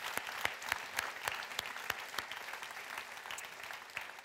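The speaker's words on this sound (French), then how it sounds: "Est-ce qu'on peut les applaudir pour dire qu'ils sont aussi accueillis en ce lieu?" A church congregation applauds steadily, a sustained wash of many hands with individual sharp claps standing out, fairly soft and distant.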